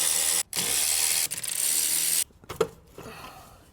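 A ratchet clicks rapidly and close up while throttle body bolts are removed from a Ford engine, with a short pause and a few scattered clicks and knocks at the end.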